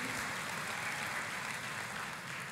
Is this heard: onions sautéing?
no